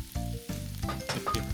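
Fried rice with curry powder sizzling in a pan while being stirred, heard as close, choppy bursts of frying crackle with scraping stir strokes over about a second and a half.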